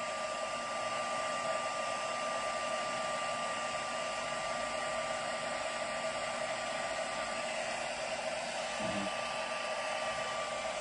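A heat tool blows steadily while setting stamped embossing on a Christmas card, a constant close whirring hiss with a faint tonal whine, unbroken and with no speech over it.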